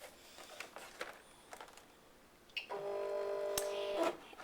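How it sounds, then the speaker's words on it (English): A Cricut cutting machine takes in a card-stock panel, starting with a few soft clicks and taps and then a steady motorized hum with faint ticking that runs to the end. "So I'm going to go ahead and put it in my Cricut."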